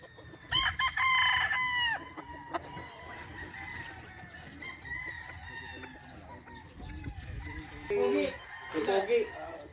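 A gamefowl rooster of the Gilmore Hatch line crows repeatedly at a game farm, its loud drawn-out calls rising over background voices and other birds, with a final close crow near the end.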